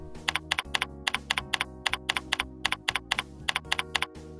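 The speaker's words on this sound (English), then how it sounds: "Use the arrow keys to navigate to the relevant cells and press Enter to create a new object within" Computer keyboard keys pressed, arrow keys and Enter, while modeling in ARIS Express software: a steady run of about twenty crisp, close keystrokes in an even rhythm, heard alone.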